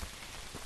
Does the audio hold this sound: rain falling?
yes